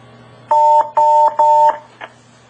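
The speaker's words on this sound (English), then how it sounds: "We hear a confirmation tone" Confirmation tone on a Cisco UC500 VoIP phone system during a MeetMe conference call: three steady, loud electronic beeps in a regular pattern, followed by one short fainter blip, with no talking.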